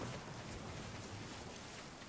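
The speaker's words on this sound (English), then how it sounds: "it's raining!" Steady hiss of heavy rain pouring during a thunderstorm in the game Last Day of June, a continuous even wash with no distinct thunderclaps, fairly quiet.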